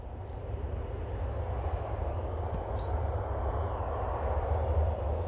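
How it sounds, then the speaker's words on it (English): An airliner approaching to land at Orly airport, probably a Transavia Boeing 737, gives a steady, broad engine rumble at a moderate distance. The sound holds constant with a faint high whine over it, and no one speaks. "Another one coming to land, obviously from far away"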